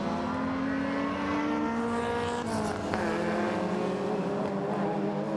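Rallycross race cars, including a Mini and a BMW, braking into a tight right-hand hairpin. Engines hold a steady, loud, continuous drone throughout.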